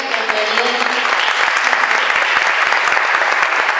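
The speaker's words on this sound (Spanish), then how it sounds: "fuerte aplauso para las chicas." Steady, dense applause from a crowd, continuous and loud throughout with no voices standing out.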